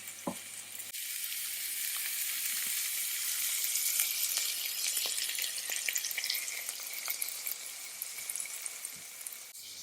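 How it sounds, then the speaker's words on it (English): Pancetta frying and crisping in a pan over medium heat, a loud continuous sizzle with scattered pops and crackles, close up and with no talking. "While our pancetta is cooking away, crisping up, releasing all that deliciousness"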